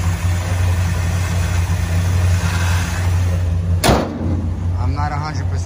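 A 1955 Chevrolet 210 flower car's V8 engine runs at a smooth, steady idle, a deep continuous rumble with a brief whooshing sweep near the end, while someone talks over it.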